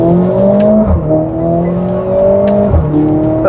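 A Mercedes-AMG A45 S four-cylinder in race mode revs loud and close after a downshift, a steady harmonic engine note that climbs and dips twice with brief blips in between.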